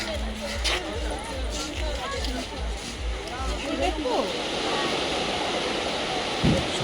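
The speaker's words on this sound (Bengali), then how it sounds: "সমুদ্রের আওয়াজ দেখেছো?" Sea waves wash onto the beach at Digha in a steady, broad roar of surf, with people chatting and crowd babble mixed in nearby.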